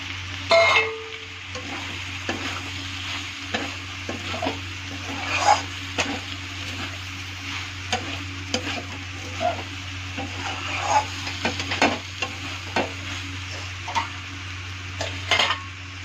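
Metal utensil scraping and clinking in a pan, repeated stirring strokes over a soft sizzle of frying soybean chunks, with a steady background hum and no talking.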